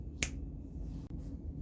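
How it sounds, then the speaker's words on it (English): A single sharp finger snap rings out near the start, close and crisp, over a low steady room hum during work on a 1997 Bally Cirqus Voltaire pinball machine. "I'm just gonna snap my fingers and it'll all be done."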